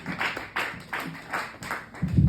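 A small comedy club crowd claps for a comedian, giving sparse, loose rhythmic hand claps about every third of a second at moderate distance, with a low rumble near the end.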